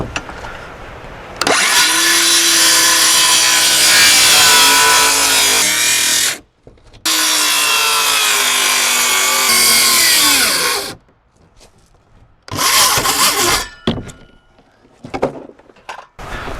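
Power saw cutting 5/8 CDX plywood while framing a gambrel greenhouse, two long loud whining cuts with the motor pitch dropping as each ends, followed by shorter bursts and pauses.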